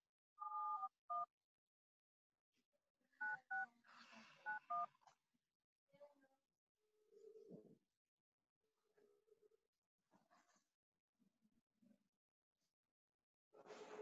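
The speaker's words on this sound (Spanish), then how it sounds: "voy a marcar a ver si me contesta" Telephone keypad tones beep in short, clear bursts as a number is dialed, with quiet murmurs and faint voice fragments between the groups of tones.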